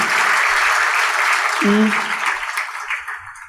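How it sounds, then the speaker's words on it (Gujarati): An audience claps warmly to welcome children at a Swaminarayan satsang gathering, a sustained, even wash of applause with a brief low tonal sound partway through. "તો બાળકોને વધાવી આપણે તાળીથી."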